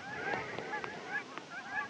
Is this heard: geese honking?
yes